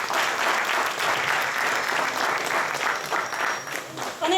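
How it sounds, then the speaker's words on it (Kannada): Audience applause after a poem reading, a dense sustained clapping from many hands at fairly loud level with faint crowd murmur mixed in. "ಈಗ ನನಗೆ ಸಿಕ್ಕ ಚಪ್ಪಾಳೆ ಯಾವುದಕ್ಕೆ ನನಗೆ ಗೊತ್ತಿಲ್ಲ"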